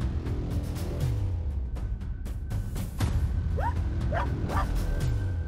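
A dog barks repeatedly over a noisy background with rumbling handling sounds, giving a run of short yips, whimpers and barks at close range.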